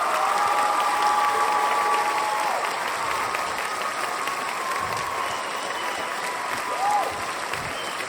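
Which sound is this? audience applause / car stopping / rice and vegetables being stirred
audience applause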